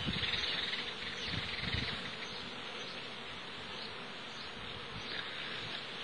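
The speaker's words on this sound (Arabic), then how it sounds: "شوفوا هذا النوع نحل بري، سبحان الله ما شاء الله، يرعى على هذه الازهر تاع الفاسيليا" A wild bee foraging on phacelia blossoms gives a steady, close insect buzz that runs continuously over a faint outdoor background, with no talk.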